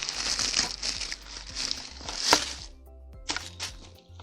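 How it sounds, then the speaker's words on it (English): Wrapping paper crumpled by hand while a Coach bag is unboxed makes loud, close crinkling in bursts, with a sharper rustle midway and a few softer crackles near the end, without talking. "Some more paper."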